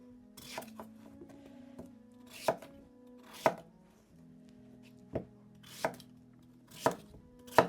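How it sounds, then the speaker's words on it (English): Squash with its skin left on is roughly chopped with a knife, about six sharp, irregular chops landing on a board, near and clear, with quiet handling sounds between them. "Just roughly chop this"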